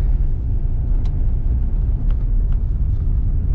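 A car rolls along a gravel road in rural Nevada, a steady low rumble of tires and engine filling the whole stretch with a few faint crunching ticks on top.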